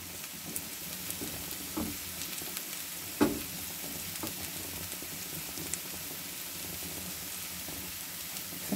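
A piece of dough frying in hot oil gives a steady, soft sizzle and hiss throughout, with a brief clatter or pop near the middle and small crackles scattered over it.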